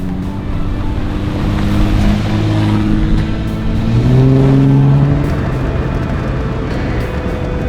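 A car engine runs steadily while driving along a desert trail, a loud close drone whose pitch shifts and rises partway through as the vehicle accelerates.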